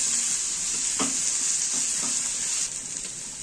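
Ginger-garlic paste frying in a little oil in a pan, a steady bright sizzle with a few soft stirring knocks, close and alone without talk.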